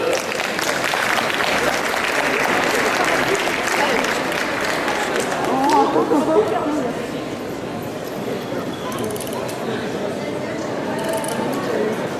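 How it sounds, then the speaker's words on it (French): Loud, sustained audience applause at a cosplay parade at a Japanese culture convention in Nantes, dense clapping from a large crowd filling the whole stretch and easing slightly toward the end. "Un tonnerre d'applaudissements pour Alice."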